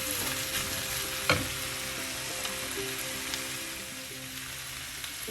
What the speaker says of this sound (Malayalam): ചെറിയ സിമ്മിൽ വേവിക്കാം ഫ്രൈ ആക്കാം